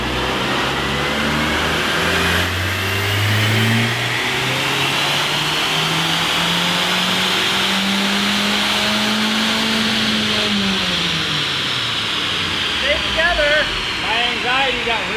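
A freshly rebuilt VW Jetta engine without nitrous revs up on a dyno, a loud, close mid-pitched roar climbing steadily for about ten seconds before dropping off, with harsh rattling bursts near the end.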